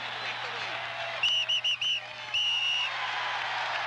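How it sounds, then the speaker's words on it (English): A fan at Veterans Stadium during a 1980 Phillies baseball game blows a shrill whistle in four short blasts and then one longer blast, loud over steady crowd murmur. "Get that whistle out of here, would you, man?"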